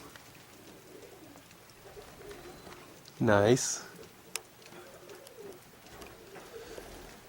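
Pigeons of a young-bird flying kit, racing team stock, give a short loud burst of sound in the middle of a quiet outdoor scene, with a brief spoken word.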